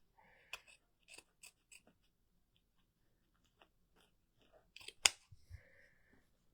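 A few short, crisp snips of scissors trimming ribbon for a Valentine's heart door hanger craft, spaced irregularly in a quiet room with a small cluster near the end.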